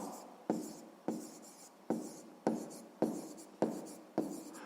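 A pen writes the answer to a sixth-grade math exercise, scratching in steady repeated strokes with a sharp tap as each new stroke begins, close and alone with no talking.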